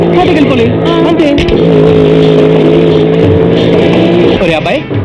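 A motorbike engine starts and revs loudly and steadily, a sustained drone with shifting pitch, as voices talk over it throughout.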